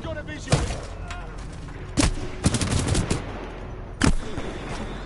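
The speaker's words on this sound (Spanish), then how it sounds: "ese disparo de dónde vino" Rapid bursts of gunfire from the video game Titanfall 2 crack out in several loud volleys, with sharp single shots between them, over a constant game background.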